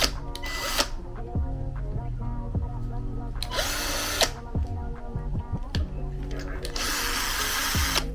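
A power drill whirs in several short, loud bursts over a background of steady music and mechanical clatter.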